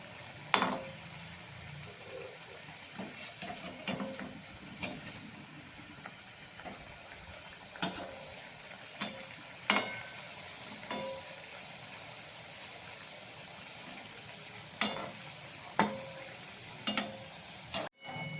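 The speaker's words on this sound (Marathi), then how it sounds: "असं सोनेरी कलरवर आपण छान तळून घेणार आहोत" Sev ladoos deep-frying in hot oil until golden, a steady soft sizzle and hiss with occasional sharp clinks of a utensil against the pan, no talking.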